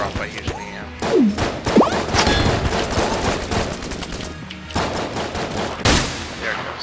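Starter pistol gunfire in the video game Enter the Gungeon: rapid, dense bursts of shots and impact hits mixed with other game effects, loud and nearly continuous.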